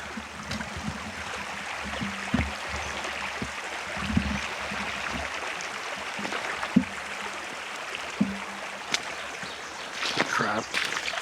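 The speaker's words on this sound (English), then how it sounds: "Gotta jump through this creek again." Footsteps wade and splash through a shallow woodland creek, with scattered sloshes and thumps over the soft, steady rush of flowing water.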